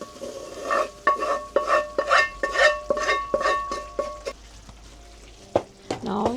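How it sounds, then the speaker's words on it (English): Roasted eggplant stirred with masala in a hot pan, with a steady run of rhythmic scraping strokes over a continuous sizzle and frying hiss, close and fairly loud, a few clinks near the end. "you have to stir it again and keep it for at least 2 or 3 minutes to mix up with the masala"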